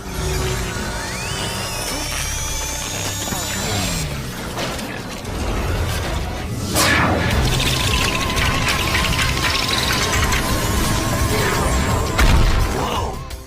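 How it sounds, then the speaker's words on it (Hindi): A Ben 10 Omniverse alien transformation effect layers whooshing sweeps, mechanical clanks and a crashing shatter into a dense, loud sequence lasting over ten seconds. "जब बेन ब्लॉक्स में ट्रांसफॉर्म हो रहा था तो ट्रांसफॉर्मेशन के दौरान हमें एक अजीब सी एलियन वाली साउंड सुनाई दे रही थी"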